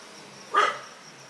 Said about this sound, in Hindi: ये कुत्ता जो अभी बगल में भौंका